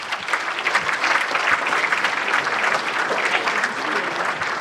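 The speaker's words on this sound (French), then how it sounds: "Et je vous demande d'applaudir Kléber Mesquida." An audience at a mayor's New Year greetings ceremony in Lattes applauds Kléber Mesquida, dense steady clapping from a large crowd filling the room for several seconds.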